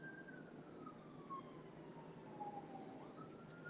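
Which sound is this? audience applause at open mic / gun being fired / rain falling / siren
siren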